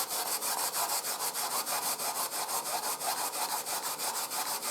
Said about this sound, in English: after peeling nagaimo, you want to grate nagaimo.